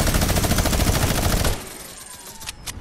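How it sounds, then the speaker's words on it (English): A minigun in the video game Fortnite fires a dense, continuous roar of rapid shots for about a second and a half, then cuts off, leaving quieter game sounds with a couple of faint distant pops. "I will push people with the minigun."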